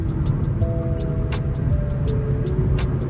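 A BMW 340i M Sport cruises on a highway, heard from inside as a steady loud road and engine roar with tire rumble, faint tonal whine, and a few light rhythmic ticks.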